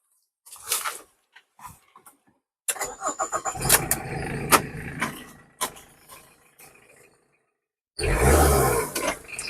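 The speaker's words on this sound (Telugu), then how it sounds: "ఇంజిన్ కూడా స్టార్ట్ చేసి చూపిస్తాను" A few clicks and a door thump, then a 2009 Tata Indica's engine cranks and catches, running with a rough roar before a pause and a loud rev near the end.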